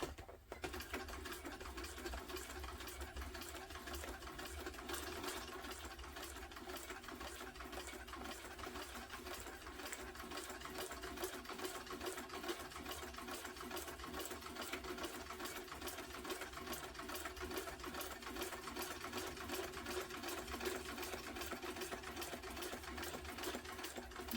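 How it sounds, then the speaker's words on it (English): A sewing machine runs steadily, back stitching a tote bag seam an eighth of an inch from each side, its rapid even needle clatter continuing close and loud without pause throughout. "1/8 inch from each side of the seam. Do some back stitching."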